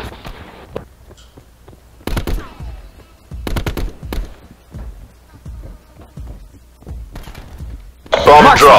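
Gunfire from a Black Ops 4 multiplayer match, rapid bursts of shots in clusters separated by short pauses, some close and loud, with a player talking between the volleys and a loud blast of noise at the end.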